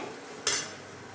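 Bitter gourd hits hot oil with tamarind in a pan for tempering, a single sharp hissing burst that flares up suddenly and fades within about half a second, with no voices.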